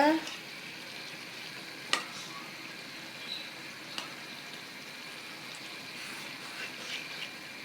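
Koi fish frying in a pan with lots of onions, a steady close sizzle with occasional stirring scrapes, with a voice talking over it.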